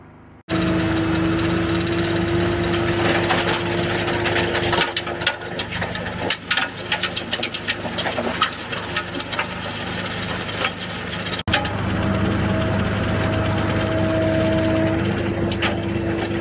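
A soil screening machine runs steadily while sifting soil on a work site, its engine droning loud and constant with a whining tone, rattling and vibrating throughout, with a brief knock midway.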